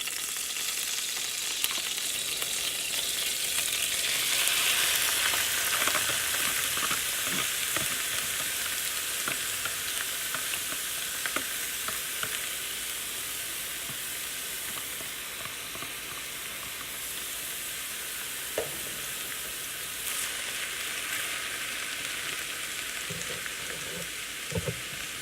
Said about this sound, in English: And I'm going to drop my greens in there to fry them.